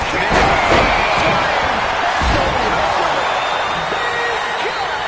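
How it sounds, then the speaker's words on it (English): An arena crowd in the WWE 2K25 wrestling game keeps up a loud, steady roar, with occasional sharp slams and thuds from the ring cutting through. "This crowd has been building."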